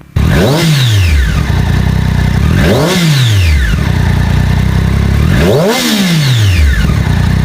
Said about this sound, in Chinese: 谢谢大家听一下最后一代675R的声浪。